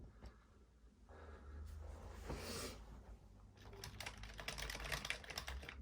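Keys clatter on a Commodore 64 breadbin keyboard being tested on first power-up, a quick irregular run of close, moderately loud taps over a steady background hum.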